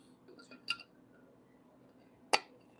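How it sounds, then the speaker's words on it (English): A metal cooking pot lid lifted in a home kitchen while making spaghetti, giving two sharp, faint clinks about a second and a half apart against quiet background. "And then we're going to grab our lid."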